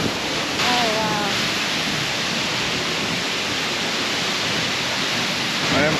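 Seljalandsfoss waterfall in Iceland roaring from behind the falling water, a loud, steady broadband rush of spray and wind that fills the whole clip, with brief excited voices near the start and end.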